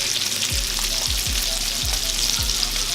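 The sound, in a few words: bacon and sausages frying on a Blackstone griddle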